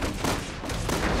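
Dense, noisy burst of rapid gunfire in Resident Evil 6, filling the whole moment, loud and close with no pause.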